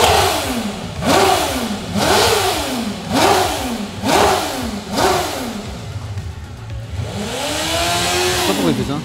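A BMW racing motorcycle engine revs repeatedly, about five sharp rising blips in steady rhythm, close and loud, then settles into a longer sustained rev with a rising and falling pitch.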